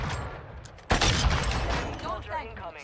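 Gunfire in a first-person shooter, a sudden loud burst of shots followed by sustained rapid firing under a man's speech, with other game sounds mixed in.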